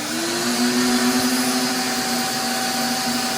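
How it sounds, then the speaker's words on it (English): A shop vac runs steadily, sucking heavy dirt off a fan. Its drone is loud, close and unbroken, with a constant whine. "Get some of the worst stuff off with the shop vac."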